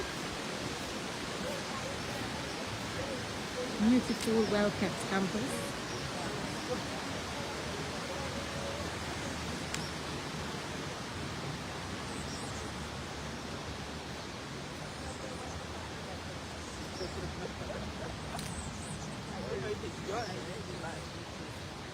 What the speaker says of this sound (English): You can hear the Roseau River in the background.